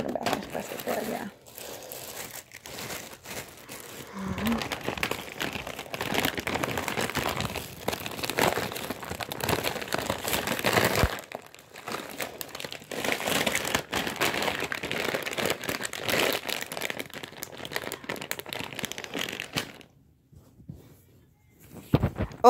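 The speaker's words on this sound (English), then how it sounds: "I gotta put them back in this plastic bag" Continuous rustling and crinkling of a plastic bag, close and fairly loud, handled in uneven bursts before going quiet near the end.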